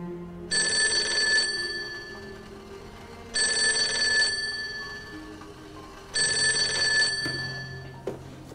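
An old-style telephone bell rings in three loud, evenly spaced bursts of about a second each, separated by quiet pauses in an indoor setting.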